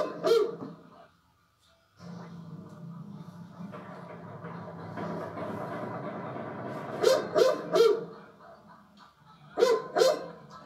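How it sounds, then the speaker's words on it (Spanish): Dogs bark in short bursts, a few sharp yaps clustered together, over a steady background rumble of noise. "Hasta los perros ladran ahí."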